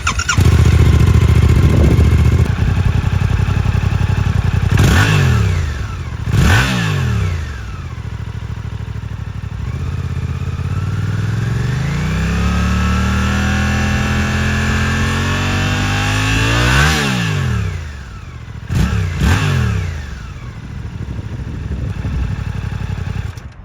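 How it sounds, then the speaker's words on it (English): A Suzuki GSX-8S naked motorcycle's exhaust barks through a series of sharp throttle blips and a longer sustained rev that climbs and falls, loud and close, with no talking. "so now let's do an exhaust clip"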